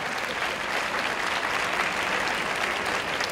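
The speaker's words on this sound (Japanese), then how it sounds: "両選手にまず大きな拍手をお送りください。" An audience at a T-League table tennis match applauds the players with steady, dense clapping that fills the hall evenly for a few seconds.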